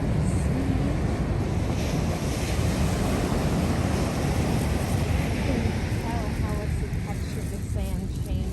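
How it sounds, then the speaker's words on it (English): Ocean waves wash onto a beach on a freezing winter day, a loud, continuous roar of surf with heavy wind buffeting the microphone and faint voices beneath. "at the waves."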